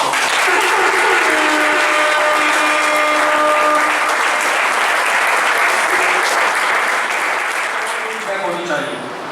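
An audience applauds at a recovery birthday gathering honouring Akash and Siddharth, producing loud, dense, sustained clapping across the room that tapers off toward the end.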